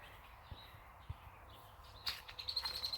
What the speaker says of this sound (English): This is a male blackbird.